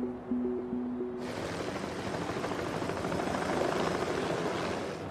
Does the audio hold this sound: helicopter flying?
yes